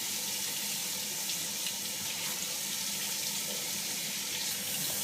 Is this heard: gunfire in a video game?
no